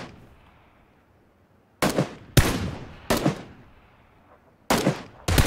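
Gunfire in the video game PUBG: a handful of sharp, loud shots, single and in quick pairs, each with a short decaying tail, against quiet background and no speech.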